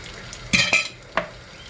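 A spoon scoops red pepper paste and knocks against a pot of yüksük soup, giving three short metallic clinks over quiet background noise.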